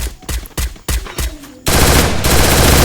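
Automatic gunfire in a battle royale video game: a few short separate bursts, then a dense sustained stream of rapid shots, loud and close.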